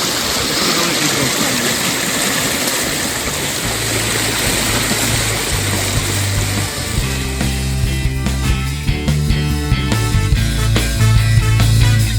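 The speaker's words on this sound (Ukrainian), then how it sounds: "Переправа через гірську річку." A mountain river in the Carpathians rushes loudly during a crossing, a constant broad roar of flowing water that is later joined by a low droning hum and faint rattles, with no talk.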